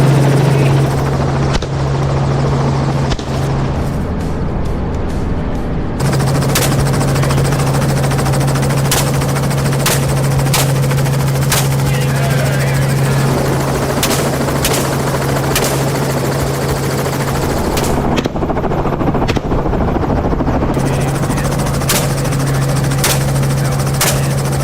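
A hunting helicopter drones steadily overhead during a wild boar cull on Texas farmland, with a low rotor hum, loud and continuous throughout, and a few sharp cracks scattered over the engine noise.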